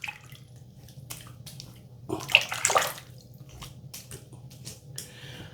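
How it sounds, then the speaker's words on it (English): Water splashes briefly while a face is rinsed after shaving, a short burst of running and splashing in the middle that fades back into quiet room noise. "so let's rinse my face off here"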